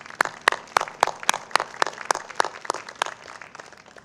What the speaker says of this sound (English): Give yourself some applause. You deserve the applause.